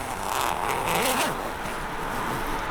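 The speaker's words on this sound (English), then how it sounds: "So that zipper's completely undone." A zipper is drawn open along the fabric of a SmittyBilt Overlander rooftop tent, a continuous close raspy zip lasting a couple of seconds with slight swells, no voices.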